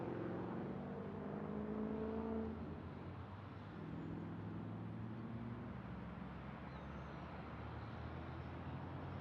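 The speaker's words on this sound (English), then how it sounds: "that big busy road behind us is the main road in Tasmania" Traffic on the busy main road in Tasmania hums steadily from a car park, a continuous low roar of vehicles with engine tones swelling as one passes, faint and somewhat distant, no voices.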